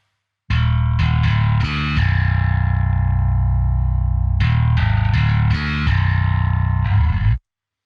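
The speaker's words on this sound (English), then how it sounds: "So the bass is Submission Audio's Kaminski bass" Submission Audio Kaminski bass plugin on its default grit setting, position 5, playing loud distorted bass notes in short repeated bursts with a sustained middle stretch, heavy and gritty with effects coloring, no voices.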